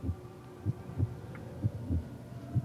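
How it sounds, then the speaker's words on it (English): A heartbeat sound effect in a dramatic scene: low, muffled thumps in an even, slow rhythm, about six beats over a faint hum, with no voices. "Do you hear the heartbeat yet?"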